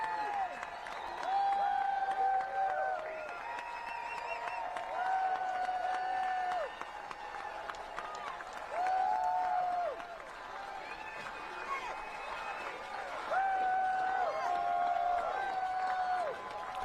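A crowd applauds and cheers for an independent presidential candidate, fairly distant and moderate, with whoops and short sustained tones recurring over a steady wash of clapping.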